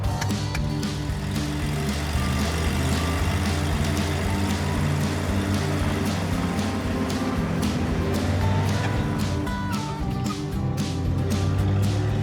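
The engine of an old Ford truck drones steadily in fourth gear, heard from inside the cab as a constant low rumble with road noise and occasional light knocks.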